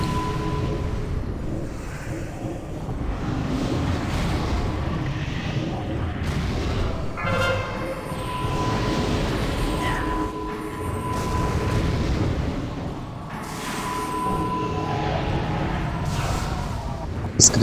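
Continuous booming explosions and heavy impacts fill a World of Warcraft Icecrown Citadel 25-player raid, a dense, loud rumble of blasts with players talking over the game sound.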